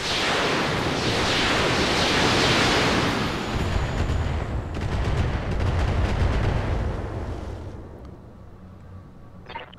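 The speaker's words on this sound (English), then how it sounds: "I'm under heavy fire." Heavy gunfire in the video game Roguepoint, a dense, loud roar of continuous shooting and blasts that swells and then fades toward the end, with no talking.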